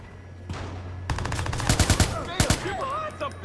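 Gunfire in the video game Watch Dogs, a short single shot and then rapid bursts of automatic fire with sharp cracks, some echoing, followed by a trailing electronic sound.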